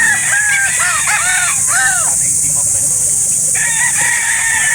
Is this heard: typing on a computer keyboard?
no